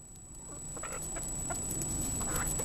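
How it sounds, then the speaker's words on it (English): Chickens clucking softly at close range with scattered short calls, including baby chicks, over a quiet outdoor background with a steady high tone. "So that's the chickens. Yeah, we got some chickens."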